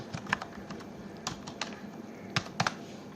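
Typing on a computer keyboard while entering text in an Excel spreadsheet: a quiet, close, irregular scattering of key clicks with brief pauses, no talking.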